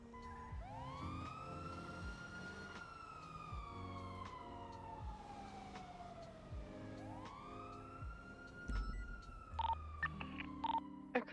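Ambulance siren in GTA RP on the NoPixel server, a wailing tone sweeping up and slowly down in long cycles, moderately close, over low engine hum with a few small clicks toward the end.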